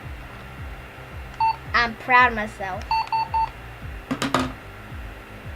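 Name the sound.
beeping in Roblox Flood Escape 2 video game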